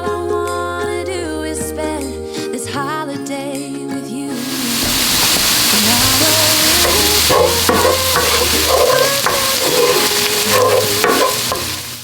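Chopped celery and onion fry in butter in a pan, a steady sizzle rising loud after a few seconds with occasional scraping stirs, over soft background music.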